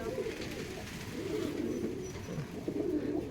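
Domestic and foreign pigeon breeds in a home loft in Kushtia coo steadily, a low, layered cooing from several birds close by, continuous throughout with no speech.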